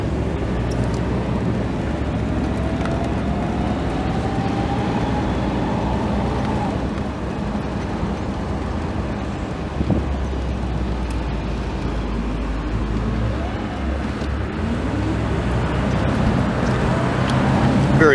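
A 1956 Cadillac Eldorado drives along steadily, engine and road rumble with wind noise, interior sound close and continuous.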